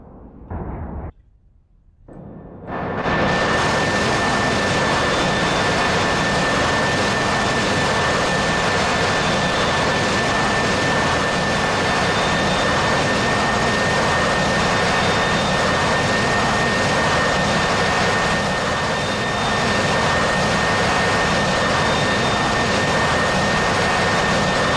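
AV-8B Harrier jet in DCS World, its engine spooling up after a brief quiet gap into a loud, constant turbine roar with a high whine that holds steady for the rest of the stretch.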